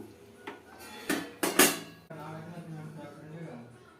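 Peanuts poured into a pan of hot jaggery syrup and stirred, giving a few sharp clatters and scrapes of nuts and spoon against metal, then softer continuous mixing.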